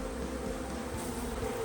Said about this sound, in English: there's not many bees in here